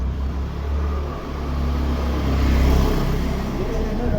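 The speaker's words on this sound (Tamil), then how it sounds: "பின்னாடி வண்டி வருது" A vehicle rumbles steadily from behind on a road, a low continuous engine drone that swells slightly in the middle and stays fairly loud throughout.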